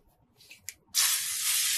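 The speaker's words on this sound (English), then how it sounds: "and spray it with some nonstick" Nonstick cooking spray hisses onto a pan in a home kitchen, one steady, close spray lasting about a second after a couple of faint clicks from handling the can.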